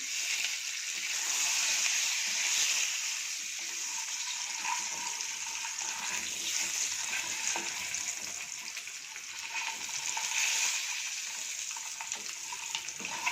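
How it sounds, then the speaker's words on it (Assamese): Eggs sizzle and hiss steadily in a hot pan, a continuous crackling that swells and eases slightly over time. "মই কণী দুটাও অকণমান ভাজি ল'ম।"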